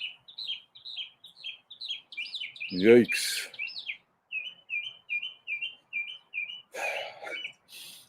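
Small bird chirping in short repeated phrases outdoors in East Texas, fairly close and steady, with a brief voice exclaiming partway through and some rustling noise.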